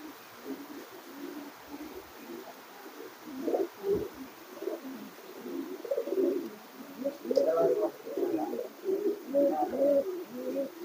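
Pigeons cooing in soft, repeated throaty bursts at close range, a few birds overlapping, with quiet background noise and no clear speech.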